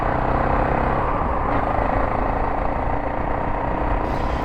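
A BSA Goldstar 650 motorcycle is ridden along Lincolnshire country roads, its engine giving a steady, dense drone mixed with wind rush throughout.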